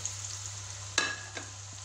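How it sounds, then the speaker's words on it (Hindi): Two large finely chopped onions frying in a pan for a chicken korma, a steady soft sizzle throughout with a brief stir or clink near the middle, fairly quiet and close. "क्योंकि हमें अनियन गोल्डन फ्राई करना है।"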